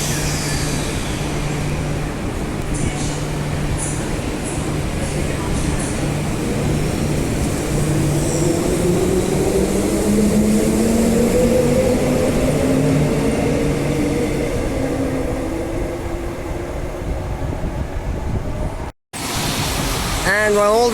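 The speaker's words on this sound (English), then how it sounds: "And here's the train just departing now." A train pulls away from a station with a broad rumbling roar and a low tone that slowly rises in pitch as it gathers speed, loud and close, broken briefly by a sharp cut near the end.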